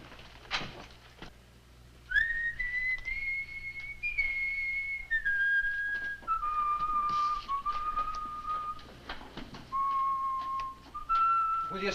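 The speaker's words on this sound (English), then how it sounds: "Will you stop that infernal whistling?" A man whistles a slow, wandering tune of long held notes in a vintage radio Western drama, stepping down in pitch over several phrases, clear and close over a faint hum and a few small knocks.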